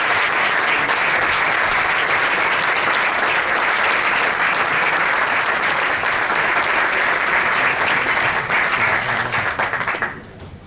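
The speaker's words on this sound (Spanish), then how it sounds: "Vamos a regalarles otro aplauso" Sustained audience applause fills a ceremony honouring the La Unión mining museum project and its collaborators, steady and dense for about ten seconds before tapering off near the end.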